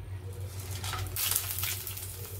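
Bay leaf, dried chilli, peppercorns, cloves, cardamom and cinnamon sizzle steadily in very hot oil for a Bihari-style chicken masala, a close, continuous frying hiss that swells briefly partway through.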